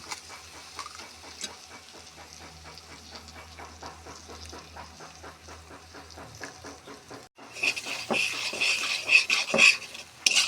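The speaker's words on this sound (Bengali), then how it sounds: "সবগুলি একখানে ভালোভাবে মিশিয়ে এই যে হয়ে আসছে" Egg, tomato and other vegetables are stirred in a pan. Quick, regular scraping strokes tick along for several seconds, then a louder, hissing sizzle rises as the mixing continues close up.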